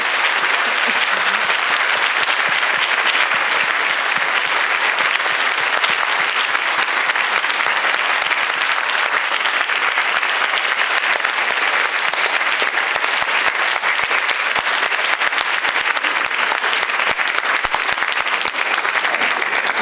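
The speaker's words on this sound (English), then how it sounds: "Yes, please clap." Sustained audience applause at an MLK Day scholarship event at St. Stephen's, a dense steady wash of clapping hands that continues loudly and evenly throughout without pause.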